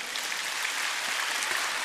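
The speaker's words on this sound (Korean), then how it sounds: "박수." A church congregation applauds at the close of a sermon, a dense, even wash of clapping from many hands with no pauses.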